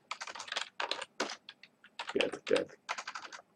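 Quick bursts of keystrokes on a computer keyboard, close and fairly quiet, clattering in short uneven runs with brief pauses, while someone speaks softly in French between and over the clicks.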